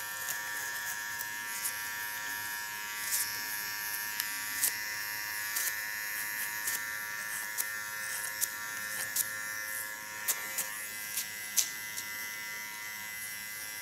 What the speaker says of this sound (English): it feels ultra relaxed working with this clipper